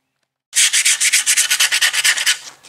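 A sander working a repaired fiberglass panel on a 1988 G-body Monte Carlo with 80 grit paper, loud and close, in a fast run of about twenty rhythmic rasping strokes after a moment of silence.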